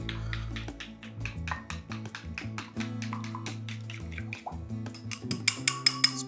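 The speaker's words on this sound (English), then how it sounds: "Do that, just give it a little whisk." A whisk rattles rapidly against a bowl as milk is beaten into egg whites and sugar, a quick, steady clinking pattern with faint splashing, close by and fairly quiet.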